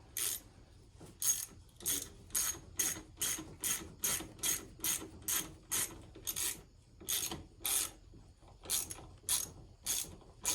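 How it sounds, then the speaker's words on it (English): A hand ratchet cranks rapidly in repeated bursts of sharp clicking while tightening an axle bolt on a CFMOTO ZFORCE 800ex side-by-side, close and loud with short pauses between strokes. "make sure you get that started cross-threaded before you get the ratchet on it, and then just tighten the crap out of it"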